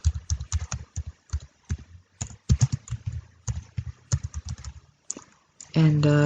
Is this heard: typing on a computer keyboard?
yes